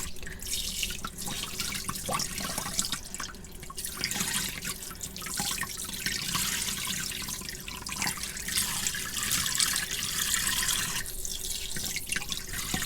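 Clip-in hair extensions being rinsed under a running tap: a steady, close rush of water splashing into a sink that holds for the whole stretch, with no voices over it.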